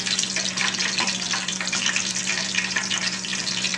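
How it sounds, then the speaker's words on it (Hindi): Spinach and potato pakoras dropped into hot frying oil, a steady dense crackling sizzle running throughout with small bursts as pieces go in, close and fairly loud. "अब हम हाथों की मदद से पकौड़े ऑयल में डालना शुरू करेंगे।"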